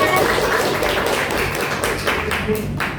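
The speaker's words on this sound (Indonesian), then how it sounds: "Beri tepuk tangan untuk kita semua karena sudah bekerja dengan baik" Students in a classroom during a science microteaching lesson on physical and chemical changes clap together in a busy, continuous patter, fairly close and loud, with sharp individual claps standing out near the end.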